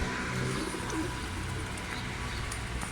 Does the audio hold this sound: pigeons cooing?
yes